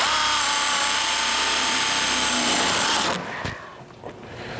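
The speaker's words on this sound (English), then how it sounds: "And then we're going to take our self-tapping bolt, put a little pressure on it." A power driver spins a self-tapping bolt into a Gatorback truck mud flap, whining loudly and steadily for about three seconds before cutting off, leaving a few light knocks and handling noises.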